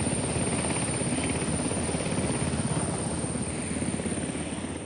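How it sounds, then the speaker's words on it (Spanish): An armed forces cargo helicopter flying on a relief mission, its steady loud rotor thump and turbine whine continuous and close throughout. "con helicópteros de carga de Fuerzas Armadas y apoyo de la Fundación Estadounidense Airbus"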